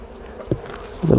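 Honey bees buzzing around a hive frame, a soft close drone with a couple of brief louder buzzes as bees pass near.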